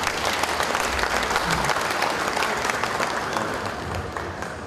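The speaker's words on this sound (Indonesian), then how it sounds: "Tepuk tangan untuk Pak Hasrul." An audience at a marketing conference in Jakarta breaks into dense, sustained applause, many hands clapping together for several seconds and tapering slightly at the end.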